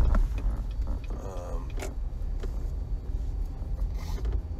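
A car rolls slowly into a McDonald's lot, heard from inside as a quiet low rumble with scattered small clicks and creaks.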